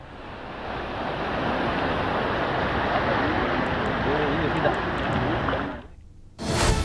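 Surf washing onto the shore at Maravanthe beach during a sea turtle hatchling release, a steady, loud broadband roar with wind, faint voices beneath, dropping away briefly near the end before returning.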